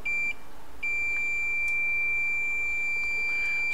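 A continuity tester beeps while probing a low-resistance PPCPU line on an iPhone 11 Pro motherboard, giving a short electronic tone, a brief gap, then a long steady beep held to the end, loud and alone.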